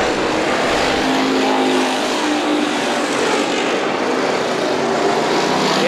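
Street stock race cars roar around Perris Auto Speedway, a dense, continuous engine drone from several cars at a distance with no clear pauses.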